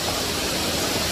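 Erawan waterfall rushes in a steady, loud roar of falling water, a dense continuous hiss heard up close with no breaks or voices.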